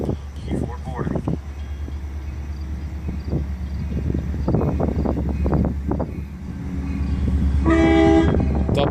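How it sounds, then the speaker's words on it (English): A Metra commuter train arrives at Grayslake station while a station announcement plays over a loud rumble. Near the end the train horn sounds in a short, loud blast. "The next outbound Metra train from Chicago is now arriving in your station."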